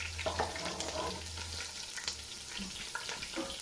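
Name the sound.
frying food in a pan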